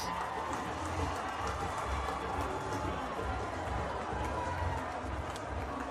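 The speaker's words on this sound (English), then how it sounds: "This crowd is going crazy." Crowd at a West Indies v England T20 cricket match roars and cheers steadily, a dense, sustained wall of noise from many spectators filling the stadium throughout.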